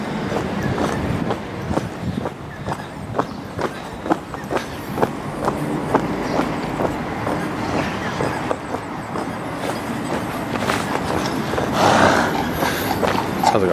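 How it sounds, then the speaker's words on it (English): Regular clip-clop of horse hooves on a hard street, steady and fairly close, with ambient outdoor noise throughout. "Sounds like a horse. Yes, there is a horse."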